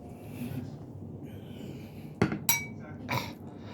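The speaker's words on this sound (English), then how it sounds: "Just clinking that bowl." A bowl clinks against a spoon at dinner, three sharp, close knocks within about a second, standing out from quiet room noise.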